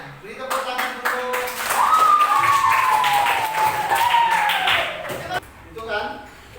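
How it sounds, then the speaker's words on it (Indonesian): A classroom of students claps during a coding lesson, with scattered hand claps at the start and end while voices carry a rising and falling tone through the middle. "Beri tepuk tangan dulu."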